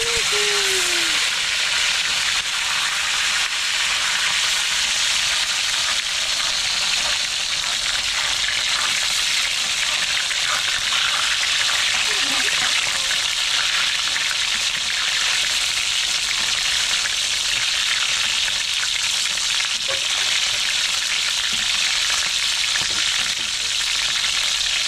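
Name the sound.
tilapia fish frying in a pan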